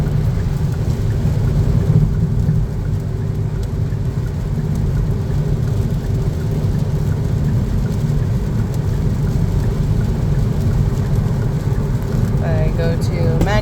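Inside a 2023 Kia Niro SX Touring under constant engine braking, a loud, steady low drone of engine and road noise fills the cabin throughout, with a faint rising whine near the end.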